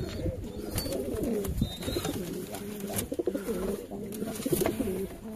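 Pigeons in a loft, a female with several males, coo in soft, repeated throaty bursts up close, with light wing flutters and rustling between the calls.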